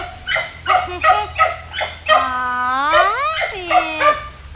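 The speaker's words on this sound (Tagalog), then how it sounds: "Galing ang aso namin" A pet dog gives a run of close, sharp yipping barks, then a long rising whine in the middle and a few more yips after it.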